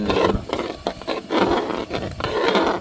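Black kavuni rice payasam made with palm jaggery is stirred in a pot, giving close, rhythmic scraping and rubbing strokes in repeated bursts with short pauses between them.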